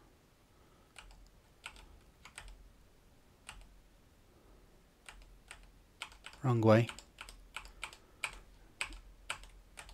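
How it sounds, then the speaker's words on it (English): Scattered keystrokes tap on a computer keyboard at an irregular pace, fairly close and quiet, with a short spoken phrase partway through. "Let's see if I can use the keyboard."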